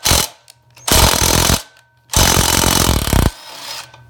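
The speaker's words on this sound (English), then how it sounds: "We'll start out by removing the spindle bolts that came attached to your Timbersled unit." A power tool removes spindle bolts from an ARO Timbersled unit, firing in two loud, close rattling bursts with a short blip before them and brief pauses in between.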